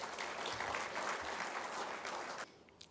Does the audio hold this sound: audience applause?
yes